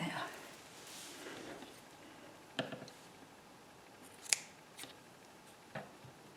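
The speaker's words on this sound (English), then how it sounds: "That's my big scissors." Large scissors snip through craft material such as organza at a journaling desk, a few sharp, separate cuts over a quiet background with some soft speech.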